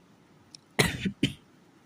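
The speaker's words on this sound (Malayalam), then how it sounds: "ചുമ ഇടക്ക് വരാറുണ്ട്" Coughing from a cold and fever caught in chilly Christmas weather: two sharp, close coughs in quick succession, the first with a short rasping tail, after a faint throat sound.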